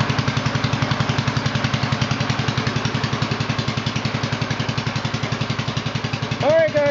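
A 1948 L engine, newly fitted with a throttle shaft bushing, runs steadily at a fast, even idle, its rapid regular chuffing close and loud throughout, with a brief louder burst near the end.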